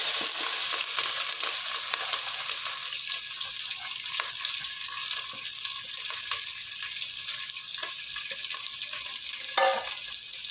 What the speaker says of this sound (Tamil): வெங்காயம் பூண்டு கருவேப்பிலை பச்சை மிளகாய் எல்லாத்தையும் போட்டுருங்க